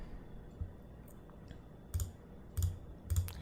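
Computer mouse buttons click a handful of times, spaced out, close and crisp against a quiet room hiss.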